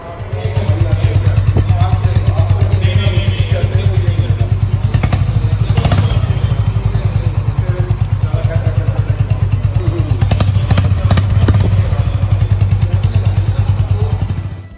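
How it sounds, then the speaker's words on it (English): A Honda H'ness motorcycle engine idles with a deep, rapid, steady exhaust thump, loud and close, with a few clicks and clatters over the rhythm. "the thump in this motorcycle, we've been told it is quite nice"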